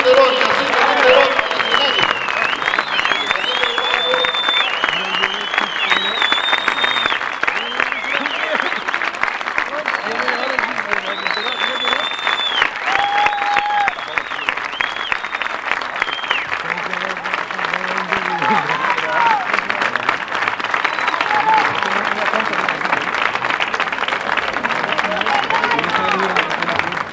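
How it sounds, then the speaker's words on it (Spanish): A large crowd at a 1993 tribute during the Fiestas del Pino claps continuously and loudly, with cheers and whistles rising over the sustained applause and a murmur of voices underneath. "pido un gran aplauso"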